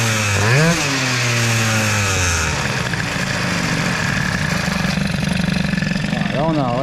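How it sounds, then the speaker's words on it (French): A boosted Peugeot 103 Doppler moped with a stock engine revs up with a sharp rising whine, drops back, then settles into a loud, buzzing, slightly unsteady idle before revving briefly again at the end. "Là le moteur ne reste plus stabilisé haut. Là on a un ralenti de la mort."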